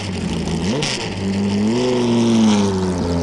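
A race car's 2000 cc engine at the Spa 24 Hours 2001 revs loudly and steadily, its pitch rising and falling as it climbs, close and continuous with no talking.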